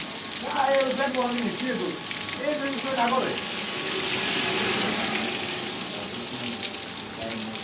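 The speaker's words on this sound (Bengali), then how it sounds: "বৃষ্টি।" Steady rain falls outside, a dense broadband wash that stays loud throughout, with voices talking over it at times.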